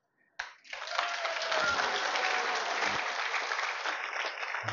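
Sustained audience applause at a spiritual gathering in Bali, Indonesia, rising abruptly and continuing as a dense, steady wash of many hands clapping throughout.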